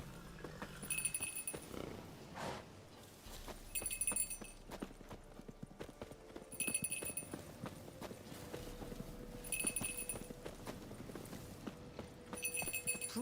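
Horse hooves clip-clop steadily in The Witcher 3: Wild Hunt, a continuous walking rhythm of hoof strikes with bright jingling tack accents recurring every few seconds, under soft ambient game sound.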